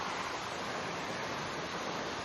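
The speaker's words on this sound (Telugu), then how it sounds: "nice small water fall" A small waterfall near Anchorage, Alaska, gives a steady, dense rush of falling water, heard close and unbroken, with no voices.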